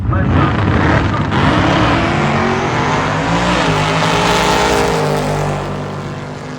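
Gasser-style Chevy II drag race car launching hard down the strip, a loud, sustained engine roar with rising pitch and tire noise that holds steady before easing off near the end, with crowd and announcer chatter underneath.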